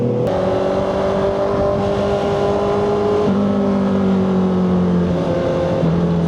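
A 2025 Honda CBR650R motorcycle accelerates hard with the throttle open, its loud, close engine note climbing steadily in pitch, dropping sharply at each gear shift, then climbing again.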